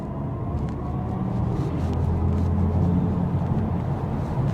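BMW i4 eDrive40 M Sport electric car driving in sport mode, a steady low synthetic drive hum and rumble that holds at an even level throughout, with no voices.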